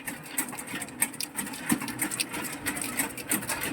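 An automatic cashew nut cutting machine, model ACC1804B, runs with a busy, rapid clatter of repeating mechanical ticks and taps, steady and fairly close.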